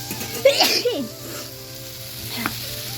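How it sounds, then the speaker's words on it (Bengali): Potatoes fry with spices in a pan, a crackling sizzle with scraping stirring strokes, loudest early, then a quieter steady frying hiss with a faint scrape near the end. "এখানে দেখো মশলাটা দিয়ে আলু দিয়ে ভালো করে কষাচ্ছি"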